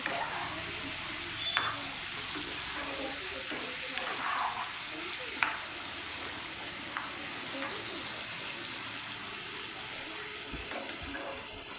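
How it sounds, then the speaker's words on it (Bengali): Chicken for chicken kosha sautés in hot oil over a medium-high gas flame, a continuous close sizzle broken by the scrape and clatter of stirring throughout. "গরম তেলের সাথে কিন্তু সুন্দর করে চিকেনটাকে ভালো করে আমি মিক্স করে একটু সটে করে নিয়েছি"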